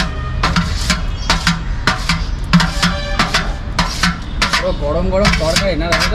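A metal ladle stirs a potato, soya chunk and peanut curry in a pot, making repeated clinking and scraping knocks at a steady stirring rhythm, close and fairly loud over a low background hum.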